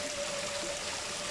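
Water flows steadily at a resort in Bamban, Tarlac, giving a soft, continuous broadband rush with no voices, fairly faint and unbroken throughout.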